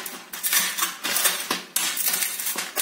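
Makhana (fox nuts) being crushed coarsely under a small bowl for vrat makhana kheer, giving a string of close, crisp crunching and scraping strokes against a dish, repeated about five times with no talk.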